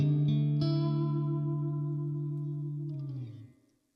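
A clean guitar chord rings out through a Blackstar St. James 50W EL34 tube amp, with lush, slightly wavering modulated reverb sustaining for about three seconds before fading away alone.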